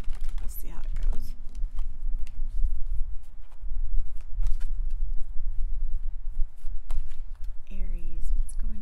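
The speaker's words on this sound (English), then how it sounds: "I hope the shuffling isn't too loud." Tarot cards are shuffled continuously close to a new microphone, giving a steady soft riffling and rustling throughout, with a brief voice near the end.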